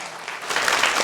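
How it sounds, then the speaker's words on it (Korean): A church congregation at a Friday worship service breaks into applause, brief and swelling quickly from a quiet start to a dense clatter of clapping. "박수 한번 칠까요?"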